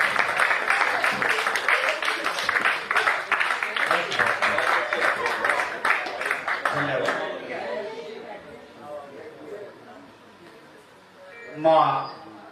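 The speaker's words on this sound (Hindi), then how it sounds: "एक बार जोरदार तालियों से आदरणीय सुनील शर्मा जी का स्वागत करें" Audience applause welcomes a poet on stage at a Hindi kavi sammelan, dense clapping mixed with crowd chatter for several seconds before thinning out, then a voice begins speaking.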